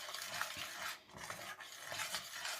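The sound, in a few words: stirring the thickening eggless bread pudding mixture in a pan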